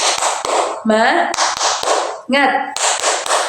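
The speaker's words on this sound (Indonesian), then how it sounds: "sekarang Ibu kasih tepukan semangat dulu" A classroom teacher and pupils perform the rhythmic tepuk semangat spirit clap, sharp sets of claps alternating with voices chanting in between, close and loud in a school room.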